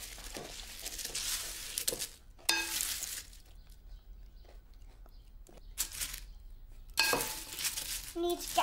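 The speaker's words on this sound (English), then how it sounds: "We need a good stir now" Food being stirred in a pan in a children's cartoon kitchen scene, with bursts of sizzling and scraping alternating with quieter stretches of faint clinks and background sound.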